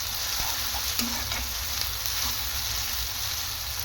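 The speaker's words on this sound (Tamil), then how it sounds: "பச்சை மிளகாய் போட்டு இப்போ நல்லா வதக்கி விடணும்." Green chilies sautéed with tomato in a hot pan for a Tamil-style fish curry (meen kolambu), giving a steady, close sizzle and frying hiss that runs unbroken throughout with light stirring.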